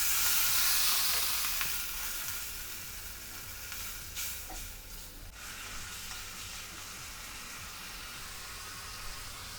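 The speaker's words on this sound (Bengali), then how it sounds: "মশলাটা কষানোর জন্য এর মধ্যে আমি একটু জল দিয়ে দেব।" Masala of chili powder and cumin powder sizzles steadily in a pan while being stirred, a close, continuous hiss with occasional scraping, loudest at the start and easing slightly afterward.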